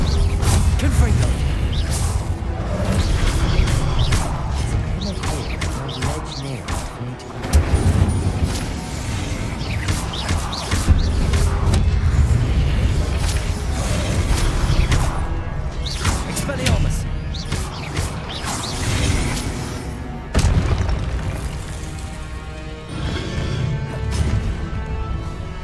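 Spell blasts from Confringo in the wizarding video game Hogwarts Legacy, a dense run of repeated booming explosions and crashes with whooshes, loud and continuous over a thick mix of game effects, with voice lines in between.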